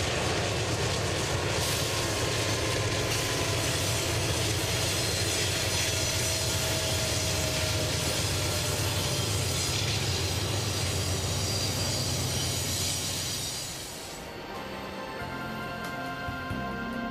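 Train climbing toward the summit of 7,588-foot Raton Pass near the tunnel, a steady loud rumble of engines and rolling cars that drops off suddenly near the end.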